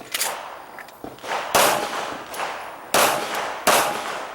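Pistol shots ring out at an IDPA match at Charlotte Rifle & Pistol Club, four sharp loud reports at uneven intervals with a reverberant tail, plus faint scuffs and clinks between them.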